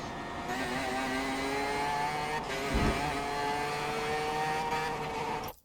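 A race car in a racing video game, said to match a Formula 1 car for power, howls at high revs in a steady, loud whine with a brief shift and thump midway before cutting off.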